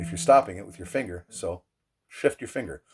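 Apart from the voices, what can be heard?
No distinct noise like a dog, phone or traffic.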